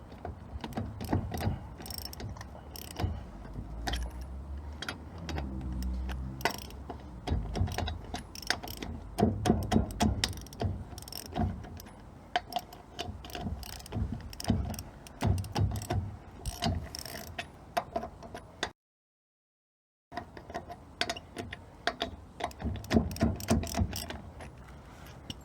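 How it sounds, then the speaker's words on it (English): A hand ratchet clicks in quick repeated bursts while a wheel is taken off an LDV Maxus van, rhythmic close-up ratcheting with brief pauses and one short silent gap. "now what we're going to do is we're going to take the wheel off"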